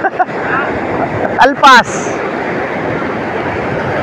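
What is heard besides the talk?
ocean waves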